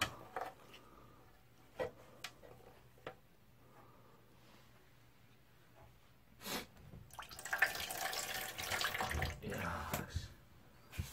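A tortoise urinating into a container, with a few faint drips and small clunks giving way to a louder, close splashing trickle of liquid that builds and then fades, while a person is heard faintly in the background.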